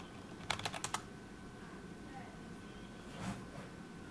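A short quick burst of computer keyboard taps, about six keystrokes typing a password, then a firmer single press for enter, faint against a quiet room hum.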